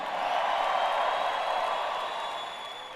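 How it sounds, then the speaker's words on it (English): A seminar audience claps in a broad, even wash that rises quickly, holds steady, then gradually tapers off. "So give yourselves a round of applause for being here."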